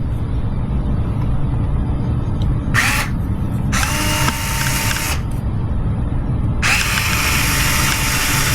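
A Fanttik S1 Apex electric screwdriver set to torque level 4 whirs in three short bursts as it drives a screw, each burst loud and close, with quiet pauses between them.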